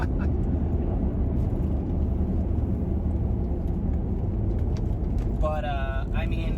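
A manual Porsche Cayenne drives on icy backroads with a steady, loud engine and road rumble throughout, and a voice briefly speaks near the end.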